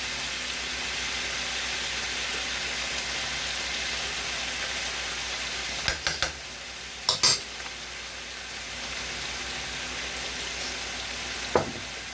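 Tamari sauce added to a hot pan gives a constant frying sizzle, while a utensil clinks and scrapes a few times near the end and no one speaks.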